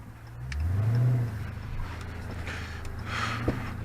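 A Dodge Charger Daytona 392 with its V8 accelerates, a low swelling rumble that peaks then settles into a steady drone heard from inside the car.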